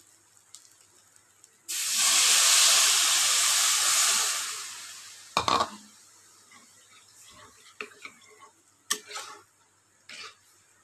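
Water poured into hot frying spices in a pan for a fish roe and potato dish, bursting into a loud, close steamy hiss that lasts a couple of seconds and fades, followed by scattered clinks and a spoon knock.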